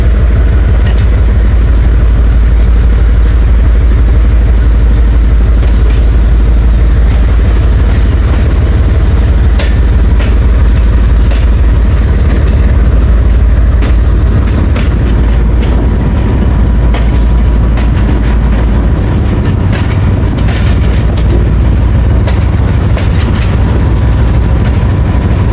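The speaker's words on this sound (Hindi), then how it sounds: "7:30 पे डिपार्चर हो रहा है 2 डाउन शटल का" The 2 Down shuttle passenger train pulls away from Mandi Bahauddin station, a loud continuous rumble of heavy diesel engine and rolling wagons with rhythmic clickety-clack of wheels on rail joints building throughout.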